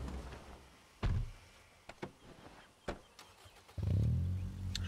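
Car engine cranking and catching in the zombie survival game State of Decay, with a door thud and a low engine rumble swelling near the end; no one talks.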